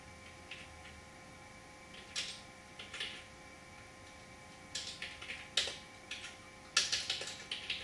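Computer keyboard typed on in short bursts of light clicky keystrokes, sparse at first then faster clusters, fairly close but quiet against a faint electronic hum, with no talk.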